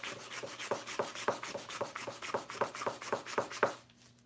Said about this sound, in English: I don't mind using sandpaper,